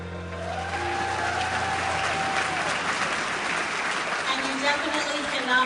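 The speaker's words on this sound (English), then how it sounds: "let's give our theater students a big round of applause." Audience applause at a school convocation for theater students, a steady wash of clapping in a large hall, with a speaker's voice and other sounds partly heard over it.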